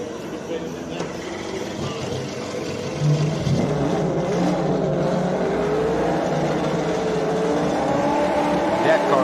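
A race car engine drones and shifts pitch as it climbs a hill-climb course at Simola, steady and fairly loud, with a voice speaking over it at times.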